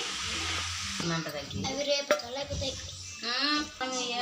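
Spicy karapusa dough frying in hot oil, a crackling sizzle with bubbling bursts and stirring clinks, mixed with background chatter and someone talking over it.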